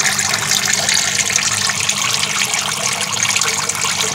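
Air pushed through a hose into a hydroponic tank growing pakcoy, a loud, constant bubbling and gurgling of water that stays close and even throughout, with no voices.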